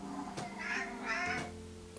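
A pet cat gives two short, close meows in quick succession indoors, with no talk over them.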